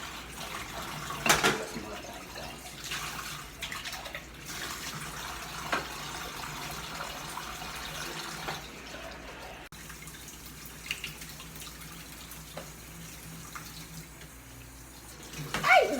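Tap water runs steadily during washing, a soft continuous rush with scattered drips and the odd light clatter of items, fairly quiet throughout.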